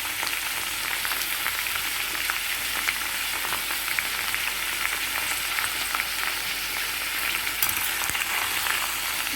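Chopped bottle gourd cooks in oil in a pan with salt and turmeric for a chutney, a continuous bright crackling sizzle lasting throughout, close and fairly loud with no one speaking.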